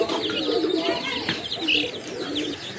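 Fancy Rajgolla pigeons coo in soft, repeated rolling calls close by, with a few chirps and a brief flutter of wings mixed in.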